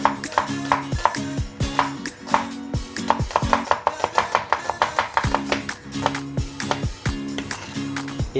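An onion is chopped with a knife on a board, a close, brisk series of sharp thuds in quick rhythmic bursts with short pauses between them, with no talk over it.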